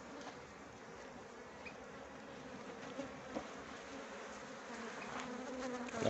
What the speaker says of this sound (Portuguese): um enxame quando ele está entrando mel de laranjeira